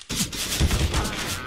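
A quick burst of rifle shots in a Counter-Strike professional match (Cloud9 vs FaZe) cracks out right after a brief pause, several close, punchy reports over about a second with a commentator's voice underneath.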